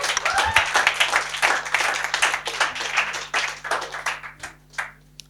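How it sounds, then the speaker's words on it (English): A lecture-hall audience at a student law journal launch event breaks into a sustained round of applause, dense overlapping claps continuing steadily for several seconds before thinning out toward the end. "we need to give these authors and the online edition a very nice round of"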